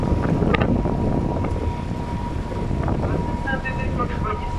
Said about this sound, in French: Ah, il y a du vent par contre.